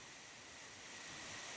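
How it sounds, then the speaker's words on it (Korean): Water rushes down a full mountain valley stream after rain in September, a steady broadband wash that holds evenly throughout at a moderate distance. "물소리 들리죠?"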